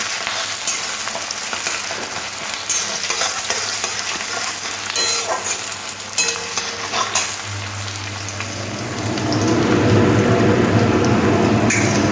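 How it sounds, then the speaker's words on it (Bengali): Onions frying in a pan for a chicken curry, a continuous sizzle with scraping stirs, growing louder and more intense near the end. "পেঁয়াজগুলো হালকা করে না ভাজতে হবে"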